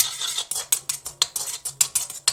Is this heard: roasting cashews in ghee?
yes